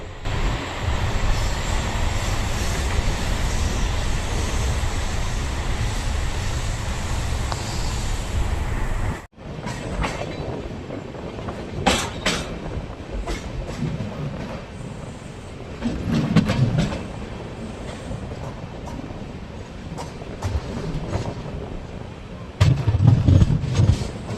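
Inside a sparsely occupied general coach of the Amrit Bharat Express leaving Erode, a loud steady rumble of the running train with rhythmic clickety-clack, a sharp cut, then wheel squeals and rattling bursts.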